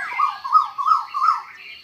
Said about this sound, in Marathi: 2 कोकिळची कू चालू